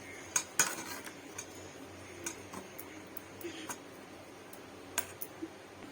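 Tamarind pulp is stirred and pressed through a strainer, giving faint scattered clinks and taps of metal utensils against the strainer and bowl over a quiet background, with a few sharper knocks.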